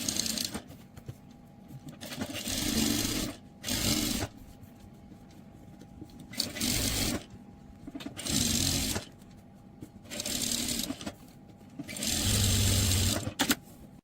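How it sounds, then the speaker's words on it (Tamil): Sewing machine stitching around all four sides of cloth pieces for a ladies' money purse, made from waste fabric at home. Repeated bursts of close, steady whirring, each lasting one to two seconds, separated by short quiet pauses. "நீங்க அந்த 4 சைடுமே சுத்தியுமே அப்படியே தையல் போட்டுக்கங்க."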